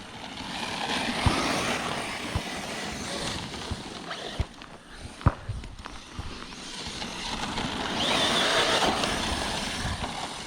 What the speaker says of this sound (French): Ah viens, on fait un peu de drift dans les graviers.